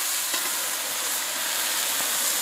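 A steady, close hiss and sizzle of asparagus steaming in a hot pan fills the whole moment, with no talking.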